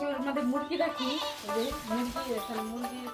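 Goats bleat repeatedly in wavering, nasal cries that overlap one another, loud and close, with a few low thumps underneath.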